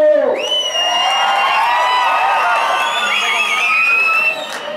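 A large crowd at a speech in Babaleshwar erupts in loud sustained cheering, whooping and shouting, with whistles rising over the din and clapping buried underneath, close and continuous throughout.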